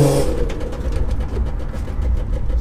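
A manual Nissan Skyline R32 track car, fitted with a Coolerworx Pro shifter, drones steadily on a test drive, its engine giving a close, continuous low rumble with mild rises in revs and no talk.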